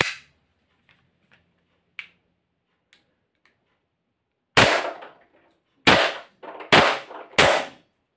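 Four loud, sharp shots from a gas-powered USP pistol crack out in quick, uneven succession after several seconds of faint mechanical clicks and near silence.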